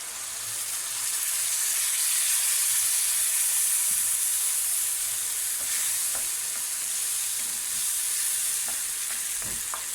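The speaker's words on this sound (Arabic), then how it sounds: "هنا البصلة بتاعتنا احمرت اهي، ننزل بيها بقى بشوية الطماطم" Browned onion and tomatoes frying in a pan for Egyptian moussaka, a steady bright sizzle and hiss that holds evenly throughout, close by, with a few faint clicks and no talk.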